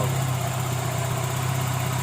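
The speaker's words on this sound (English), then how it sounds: "the engine runs better than before after repairing the wiring" A Mazda Miata engine idles after a wiring repair, a steady low hum with an even, continuous tone and no revving, heard up close and alone.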